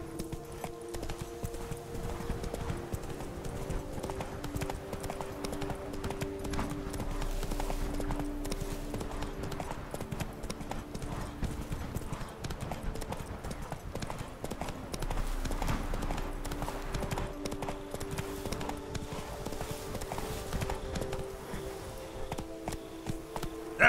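Hooves of Roach the horse gallop in The Witcher 3, a continuous rapid clip-clop close by over a low droning game soundtrack.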